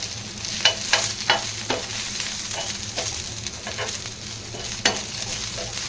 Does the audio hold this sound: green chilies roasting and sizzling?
yes